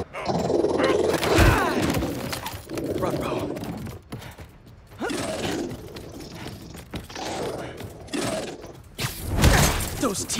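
A robotic cat-dog creature in Marvel's Spider-Man 2 growls with a mechanical, gear-like rasp, mixed with other game sounds and bursts of louder noise.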